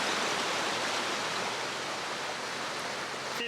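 Artificial waterfall: a steady, dense rush of falling water that fills the whole clip at an even level, with no voices.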